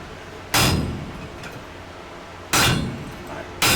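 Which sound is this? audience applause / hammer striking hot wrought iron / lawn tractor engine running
hammer striking hot wrought iron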